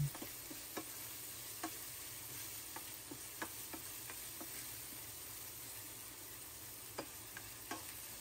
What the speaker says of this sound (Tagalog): Gasa po natin maigi sa asin ang ating giniling para po mas malasa ang ating giniling.